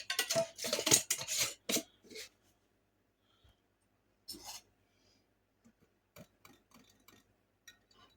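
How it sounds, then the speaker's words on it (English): Yeast being stirred into a honey bun dough mixture, with a burst of close scraping and clinking strokes at the start, then sparse faint taps and stirs separated by quiet. "You want to make sure it's stirred in real well."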